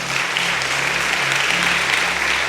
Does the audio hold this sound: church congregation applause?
yes